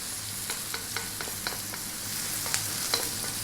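Onions with curry leaves frying on high heat, giving a dense, steady sizzle with repeated small scraping taps as they are stirred in the pan; close and continuous, with no talking.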